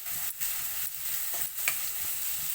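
Onions fry together in a pan for momos with a soft, quiet sizzle, broken by a few light stirring scrapes at regular intervals and no voices.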